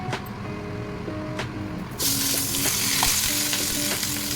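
Fish wrapped in banana leaf frying in a pan, a continuous sizzle that jumps to a much louder, fuller crackle partway through and stays dense, with occasional faint stirring clicks and no voices.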